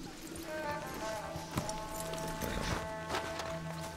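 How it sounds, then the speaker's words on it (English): Horses in the video game Red Dead Redemption 2 walk with soft, irregular hoof clops over quiet outdoor ambience, with a few sharper hoof hits along the way. "Let's leave the horses off the road to the right here."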